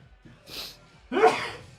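A person sneezes close by, a short breathy burst followed by a louder, fuller sneeze about half a second later, in an indoor setting with no talking.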